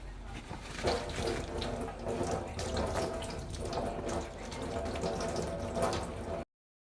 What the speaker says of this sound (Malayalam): ഇനി ഇല നമുക്ക് നന്നായിട്ട് കഴുകിയെടുക്കാം